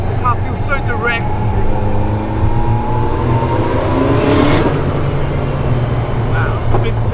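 From inside the cabin of a drift-built Nissan Silvia S13 240SX, the engine runs loud and close, with its pitch rising and falling as the car drives on. A voice is faintly present at times.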